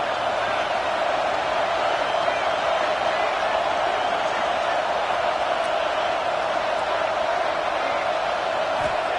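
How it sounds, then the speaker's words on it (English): A home crowd roars at a football game, a dense, steady wall of cheering and shouting that holds loud and unbroken throughout, with no single voice standing out. "how nice is it to have the home crowd going absolutely bananas?"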